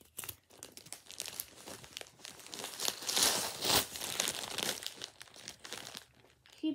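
Christmas present unwrapped, wrapping paper crinkling and ripping up close in a busy stretch of rustling that peaks into louder tears midway.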